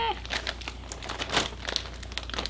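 A plastic bag crinkles and crackles as it is opened while unboxing art batts and roving, with irregular rustling bursts close by and a steady low hum underneath.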